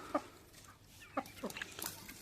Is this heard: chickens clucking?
yes